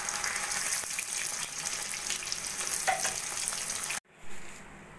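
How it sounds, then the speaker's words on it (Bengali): Paneer pieces frying golden in hot oil in a pan, a close, continuous crackling sizzle with faint stirring, which cuts off abruptly near the end and is followed by a brief quieter watery rush, no talk. "পনিরগুলো আমার হালকা সোনালি করে ভাজা হয়ে গেছে"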